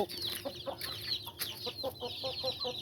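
Fighting roosters clucking in quick, repeated bursts over a steady background, with higher chirping calls mixed in throughout.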